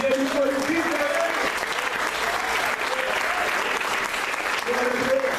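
A church congregation claps loudly and steadily during a worship service, with raised voices and sustained vocal tones carrying over the dense clapping throughout.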